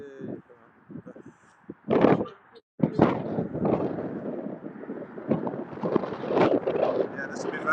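Gusty wind buffets the microphone on a canal-side nature walk, roaring in strong bursts with a brief lull, while someone talks faintly underneath.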